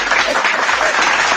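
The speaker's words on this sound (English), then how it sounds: "give me just hand clap." Dense, continuous hand-clapping applause that sounds loud and close, a constant wash of claps with no pauses.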